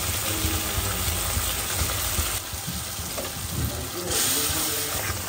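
A spice paste of chili, cumin and garam masala with ground cashew and pistachio, yogurt, garlic and ginger sizzles steadily in a pan, a continuous close frying hiss with some stirring scrapes.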